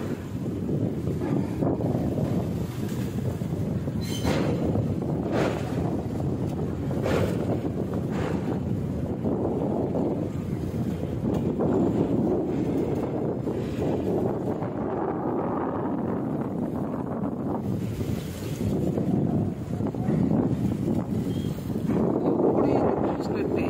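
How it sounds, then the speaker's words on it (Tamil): Strong, steady wind buffets the microphone at the century-old Pamban rail bridge over the sea, a continuous loud roar with gusty rumbling throughout, while a voice speaks faintly underneath. "பூக்காத்து அடிச்சுக்கிட்டே இருக்கும்"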